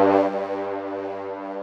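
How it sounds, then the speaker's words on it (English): A deep, sustained foghorn blast sounding in fog near a hillside, loud and steady with a rich harmonic tone that holds for over a second without fading. "The foghorn had been so loud that it made the hillside shake."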